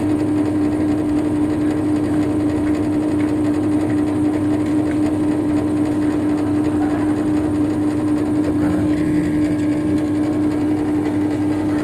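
An LG air conditioner runs steadily after its condenser was replaced, giving a loud, continuous mechanical hum with a strong steady tone throughout and no talking.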